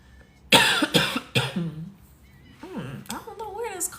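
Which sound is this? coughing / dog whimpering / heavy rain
coughing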